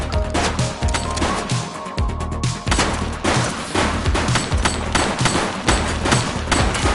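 Heavy gunfire fills a shootout in The Precinct, with repeated loud shots and bursts pounding close together almost without a break.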